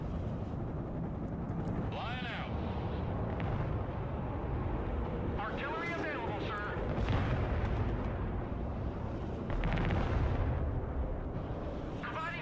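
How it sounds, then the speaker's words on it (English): Rocket artillery (MLRS) firing in the multiplayer video game Broken Arrow, a dense rumbling barrage of booms and bursts running throughout, loud and continuous, with a voice talking over parts of it. "I've got artillery firing on it now. Rocket artillery."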